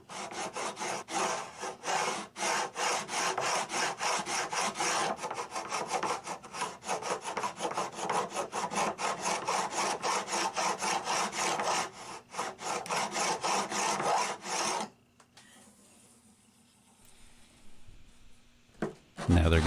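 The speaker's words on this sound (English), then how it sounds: "I'm going to start out by just filing the frets level with the fretboard" A metal file rasps back and forth over the new frets on a vintage Hohner Shark Fin guitar, dense rhythmic close strokes for about fifteen seconds before fading to quieter handling.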